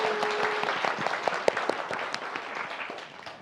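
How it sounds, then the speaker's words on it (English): Applause from an audience at a university talk fills the room, dense clapping from many people for a few seconds before it fades toward the end, with a brief voice underneath. "could we give another round of applause for our three speakers?"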